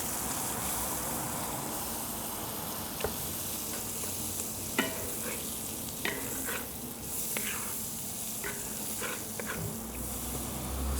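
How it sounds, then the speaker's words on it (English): Butter sizzles steadily in a pan while a utensil scrapes up browned fond during breakfast sausage gravy prep, with a constant frying hiss and a few sharp, close scraping clicks scattered through it. "Start to sort of scrape up some of that fond, move it around."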